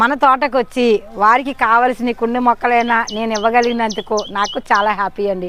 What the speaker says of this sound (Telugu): పక్షులు చూసారా ఎలా కూస్తున్నాయో మేము ఉన్నామో ఈ ప్రకృతిలోని అని